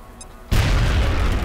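Frag grenade going off in the video game XCOM Enemy Unknown: a quiet moment broken by a sudden loud blast that rumbles on to the end.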